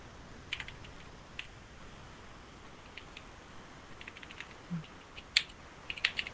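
Quiet, irregular clicks of a computer keyboard as MySQL records are typed in, light keystrokes scattered in short bursts with a few louder taps toward the end, no voice over them.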